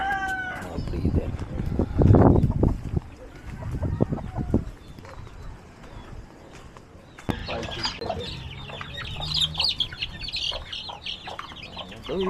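Breeder chickens on a farm cluck and call around the listener, with bursts of fowl sounds scattered through the stretch, mixed with people talking and louder, busier bird noise in the second half.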